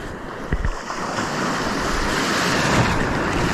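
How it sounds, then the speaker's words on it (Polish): Sea waves break and surge along the shore at Rozewie during shore fishing, a steady, loud wash of surf with wind buffeting the microphone throughout and a sharper splash near the start. "Plus jeszcze walka z falami dodatkowo, które też nie są tutaj przychylne dla nas."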